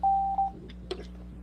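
Two short electronic tones from a phone, a steady beep followed by a briefer second beep, sound over a low hum at the start, with faint scattered noises afterward.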